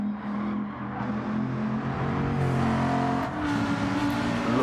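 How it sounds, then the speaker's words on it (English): A Bugatti race car in a racing video game roars close by, its engine note rising and holding with a deep, steady growl as it accelerates, alone without talk. "It looks sluggish, it sounds sluggish, but it goes like the clappers, that Bugatti."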